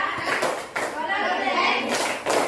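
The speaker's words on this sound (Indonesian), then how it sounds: "Tepuk tangan untuk kelompok relaksa" Group applause in a classroom for a student team, a steady patter of many hands clapping close by with brief surges and dips, children's voices mixed in.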